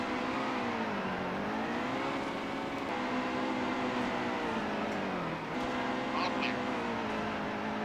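Simulated NASCAR race car engine in NASCAR Heat 2 at Watkins Glen, a loud steady high-pitched drone with pitch dips as it slows and revs again, ending in a brief impact scrape near the end.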